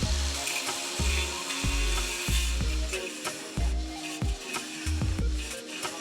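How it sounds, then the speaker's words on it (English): An angle grinder works down a weld on the sheet metal of a car's shaved engine bay, a loud close rasping grind that surges and eases in repeated strokes. "So I'm gonna go ahead and hit him with the grinder and try to flatten it out just a bit"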